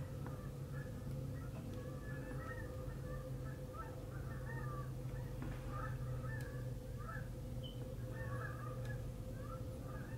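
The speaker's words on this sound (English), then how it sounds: "I hear a whole bunch of ducks or geese. Something. They're going crazy." Ducks or geese call outside, a faint, distant chorus of repeated honks and quacks under a steady indoor hum.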